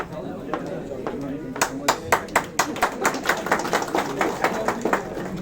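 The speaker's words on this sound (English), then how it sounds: "Let's have a big round of applause." Scattered hand clapping at an office Women's Day celebration, a loose run of sharp claps building into a brief round of applause from a small group, with voices murmuring underneath.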